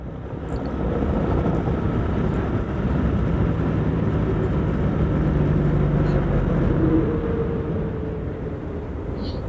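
An engine pulls hard on a rough road in Jejangkit as the car speeds up to pass a truck, a steady broad roar with rising hum that stays loud and close throughout.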